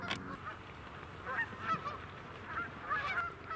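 Several geese honk repeatedly in a loose, overlapping series at moderate distance, heard in the open outdoors during a bowhunting outing, with no talking.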